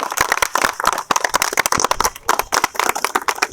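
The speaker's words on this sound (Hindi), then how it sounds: "तो इनके लिए सब ताली बजाओ" A group applauds Rajeev Kumar for completing the Home Guard physical test, a loud, dense and unbroken round of clapping close by.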